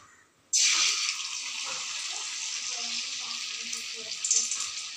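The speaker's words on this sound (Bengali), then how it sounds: "এবার আমি এই চুবিয়ে রাখা কাঁকরোলগুলিকে আস্তে আস্তে তেলের মধ্যে দিয়ে দেবো" Battered kakrol (spiny gourd) is lowered into hot refined oil and bursts into a loud, sudden sizzle that holds steady, briefly flaring again near the end.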